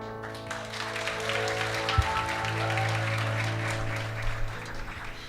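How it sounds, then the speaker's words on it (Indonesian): Audience applause at a church Christmas celebration, sustained clapping from a crowd for several seconds over a low background hum and music tones. "Sekali lagi berikan tepuk tangan buat hambanya yang luar biasa"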